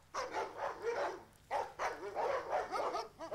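Former Stasi sniffer dogs in a kennel near Leipzig barking and yipping in several close, loud bursts, with short gaps between volleys and some whimpering.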